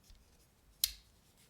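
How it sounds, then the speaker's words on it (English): A single sharp click as the small scissors of an Olight Otacle P1 multitool fold shut, faint and close in a quiet room. "Let's fold the scissors back up."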